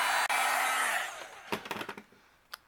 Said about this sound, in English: then we'll zap this with a heat gun